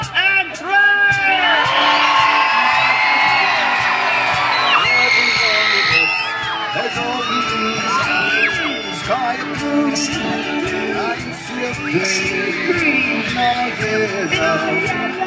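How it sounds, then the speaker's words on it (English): A concert crowd at a tribute band show screams, whoops and yells loudly and without a break for about fifteen seconds, a dense wall of voices. "I want you to scream and yell as loud as you possibly can"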